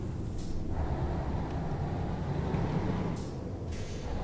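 A heavy truck in Euro Truck Simulator 2 rumbles with a steady low engine drone, and a sharp air-brake hiss bursts out twice, once near the start and again near the end.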